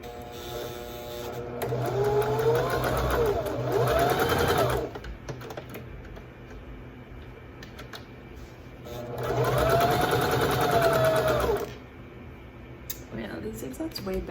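A sewing machine sews a zigzag stitch on a thrifted knit skirt in two close, steady bursts of rapid mechanical whirring separated by a quiet pause.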